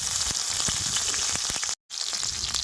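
Green chilies and cumin seeds fry in mustard oil in a kadai with a steady, close crackling sizzle and scattered pops, broken by a brief cut of silence.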